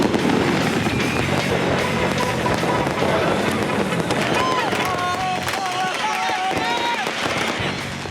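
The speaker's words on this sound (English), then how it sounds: "Every kid above the age of 5 seems to have been issued a lighter and a fistful of fireworks." Fireworks and firecrackers crackle and pop repeatedly in a crowded square amid a constant roar of crowd noise, with whistling rocket-like tones rising and falling over the dense clamour.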